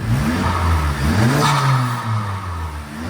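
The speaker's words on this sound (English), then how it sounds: "Go ahead, give it a rev, let's hear it." A Honda Civic FL5 Type R with an HKS blow-off valve fitted revs up and back down, a loud rising and falling engine roar close by with no talking.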